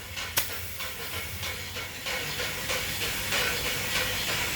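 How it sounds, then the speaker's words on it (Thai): Nitrogen gas escapes from a shock absorber in a sustained, loud, close hiss after a sharp initial click, with the hiss growing stronger toward the end and no voices. "คราวนี้ปล่อยน้ำมันปล่อย ไนโตรเจน ปล่อยหมดเลย"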